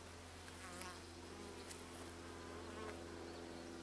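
Honeybees buzz steadily at close range at a hive, a dense droning hum with individual insects flitting past; no voices.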